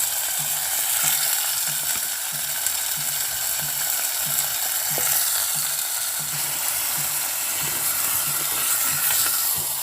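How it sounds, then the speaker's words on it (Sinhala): Chicken frying in coconut oil in a pan, with a steady, loud sizzle throughout and a soft, regular scraping or stirring rhythm underneath, no voices. "ඒ චිකන් ටික එකතු කරන්න."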